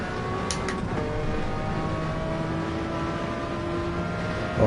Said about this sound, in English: Oh, listen to that rotary engine.